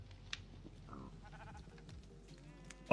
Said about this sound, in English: Oh, this just pulls the sheep to me.